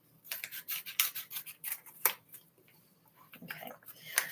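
Scissors snipping carefully through material while dyeing fabric, a run of soft crisp cuts with a sharp snip near the middle, close and fairly quiet, with faint rustling between cuts.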